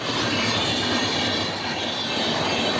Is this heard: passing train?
yes